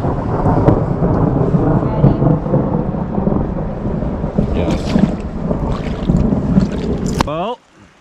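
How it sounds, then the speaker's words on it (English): Thunderstorm rolling in over a canoe trip in the wilderness, a loud continuous rumble of thunder with rain and wind buffeting the microphone, voices talking over it, ending abruptly. "This thunderstorm has really rolled in and we're getting a little nervous."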